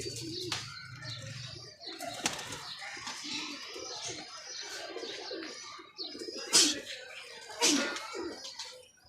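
Paired pigeons coo softly nearby in repeated low phrases, broken by two sharp bursts of wing flapping late on, with faint chirps around them.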